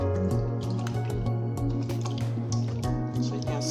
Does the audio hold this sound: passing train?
no